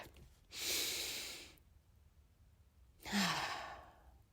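Two deep breaths taken close to the microphone, each a long airy rush ending in a soft sigh, separated by a short pause of near silence.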